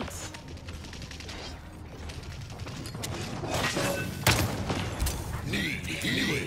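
Gunfire in a video game shooter: rapid bursts of automatic fire and a few heavier thumps run through the whole stretch, close and dense, under shouted voices.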